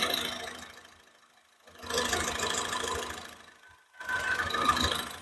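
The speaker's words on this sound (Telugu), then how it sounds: "ఇది హోండా ఒక నమ్మకమైన ఇంజిన్" A 2016 Honda City VX petrol engine idles, its mid-pitched hum rising and falling in two close bursts with near-silent gaps between.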